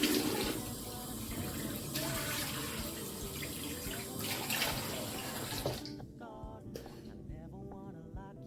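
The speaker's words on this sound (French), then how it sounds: "je me mouille un peu le visage" Tap water gushes steadily into a bathroom sink as a face is splashed and wetted, a broad close rush that cuts off near the end, leaving a few soft drips and rustles.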